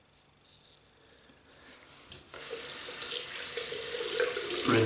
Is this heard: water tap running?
yes